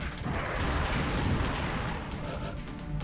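Muffled gunfire and booming impacts from a turn-based XCOM: Enemy Unknown battle roll on for about three seconds, moderately loud, with a voice faintly underneath.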